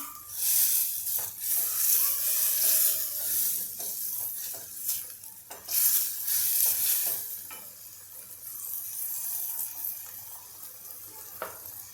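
Ground fresh coconut masala paste fries in oil, a continuous sizzle with stirring scrapes and clinks through most of the stretch, fairly close and moderately loud with no talk.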